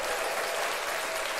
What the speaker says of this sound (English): I do want to give David a round of applause for letting us be there.